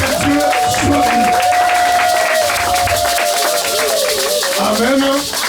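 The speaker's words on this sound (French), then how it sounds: "Pendant qu'il avance, nous applaudissons" A church congregation at a convention claps together in a dense, steady patter, with voices calling out and a sustained tone ringing over the applause the whole time.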